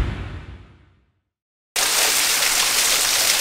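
Waterfall at a reputed haunted spot in Japan: a loud broad rushing roar that fades away into silence, then cuts back in abruptly, close and constant, with no talking.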